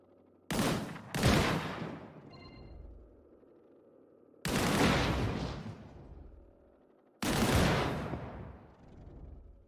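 Three loud, sharp gunshot bursts with trailing decay, separated by short pauses, fired at a barrel in the video game Disintegration.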